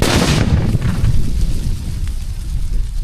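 A paper bomb firecracker goes off outdoors with a single loud, sharp boom at the start, followed by a rumbling, crackling tail that slowly fades.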